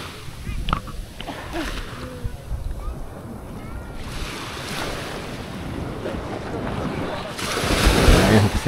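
Sea waves wash in at high tide on Nasugbu Bay in Batangas in the evening, a continuous surf roar mixed with gusty wind noise that swells louder near the end.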